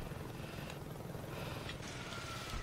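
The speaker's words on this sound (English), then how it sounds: "I hear a helicopter" A helicopter in Saints Row 2 thuds with a steady, rapid rotor beat, a dense and fairly faint whirring drone that continues throughout the short stretch without speech.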